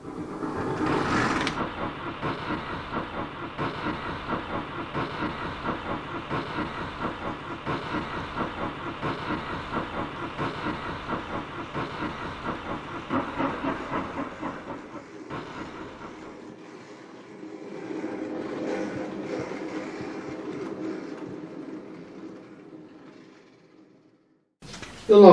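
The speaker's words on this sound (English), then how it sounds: "The light engine that arrived a short while ago will now have to be turned" A light engine locomotive arrives at the loco servicing area at Bullo Pill, giving a steady, even rumble with hiss for about fifteen seconds, then a softer, lower drone that fades, with no talking.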